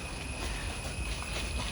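Train passing nearby, a continuous broadband rumble and rolling rail noise with a steady high hiss, fairly quiet and unbroken for the short span.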